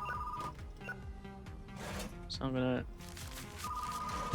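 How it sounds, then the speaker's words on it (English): A telephone rings in the retro video store game Retro Rewind, repeated electronic ring bursts over game music while a person talks. "Looks like the phone's ringing as well."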